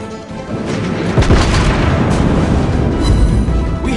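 Naval guns in World of Warships Blitz fire and land hits on an enemy ship, loud booming blasts rolling over one another in a dense, continuous barrage.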